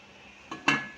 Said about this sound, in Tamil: இது நம்ம மூடி வச்சிடலாம்.